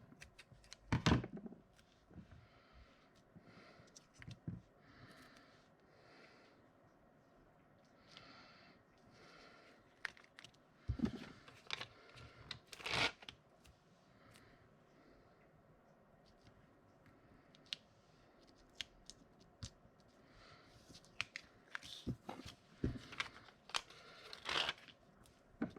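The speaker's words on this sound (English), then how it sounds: "I have to cut these down a" Craft pieces being trimmed down with scissors, heard as scattered close snips and crisp clicks separated by quiet handling rustle and paper shuffling, with no talking.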